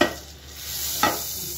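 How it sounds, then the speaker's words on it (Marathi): Butter and oil sizzle in a frying pan, a brief close hiss with a sudden burst of crackle partway through. "इकडे मी बटर घातलेलं आहे आणि त्यानंतर लगेच त्यावर थोडंसं तेल घालायचं आहे"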